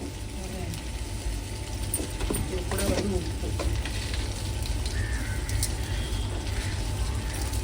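Very ripe tomatoes with sugar sauté in a pan, giving a steady, close sizzle with occasional stirring clatter throughout, while a person speaks over the cooking.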